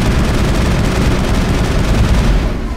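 Sustained automatic gunfire in the Mass Effect video game, a dense, loud continuous rattle of shots filling the whole stretch with no pauses, easing slightly only at the very end.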